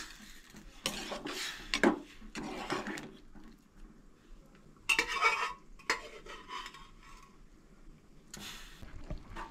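Sprouted moong being stirred into a hot tempering in a pot, with scraping and clattering of a spoon against the metal in bursts, and a faint sizzle beneath.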